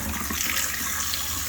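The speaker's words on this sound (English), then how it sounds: "so now we're testing out the water" Water runs steadily from a newly replaced kitchen faucet in a 2022 Rockwood Mini Lite 2509S travel trailer, a continuous close hiss and splash with no talking.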